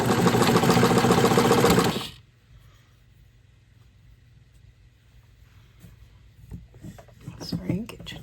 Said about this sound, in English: So we're gonna just quickly sew that together.